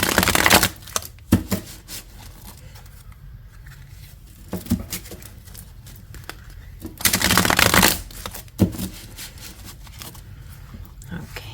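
Tarot cards shuffled by hand come in repeated quick riffling bursts, close and crisp, separated by quieter pauses with soft handling noise.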